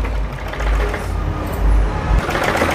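A sewing machine stitches a blouse lining with a loud, close, steady whirring run that surges and eases in short bursts before stopping briefly near the end, no talk.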